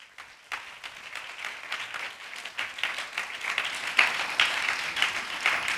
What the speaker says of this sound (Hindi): उस परमेश्वर के ताली बजाइए